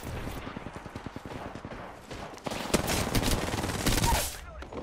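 Automatic weapon fire in a shooter game, rapid bursts of shots in quick rhythm, loud and close, briefly pausing before a denser, heavier stretch of firing.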